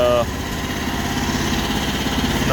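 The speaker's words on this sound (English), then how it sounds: "Engine runs. It's not that loud. I mean, it could be a little quieter. It's just at idle right now too." A Rippa NDI313 mini excavator engine idles with a steady low rumble throughout, moderately loud and close, with a brief higher tone at the very start.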